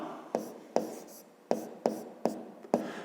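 A pen writes on paper in a series of six sharp, evenly spaced strokes, each a quick scratchy tap fading out, close and clear with no talking.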